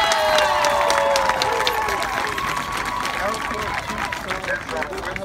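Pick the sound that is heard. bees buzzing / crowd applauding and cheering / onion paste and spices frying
crowd applauding and cheering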